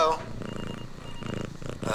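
A person on a phone call does a purring imitation, a low, rhythmic, rumbling purr that pulses steadily for a couple of seconds under faint phone-line noise, with a brief bit of speech at the start.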